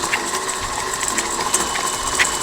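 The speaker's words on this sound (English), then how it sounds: "And then we will turn the mixer on." An electric mixer creams sugar and butter together in a mixing bowl, giving a steady, loud mechanical whir with a faint rhythmic rattle running throughout.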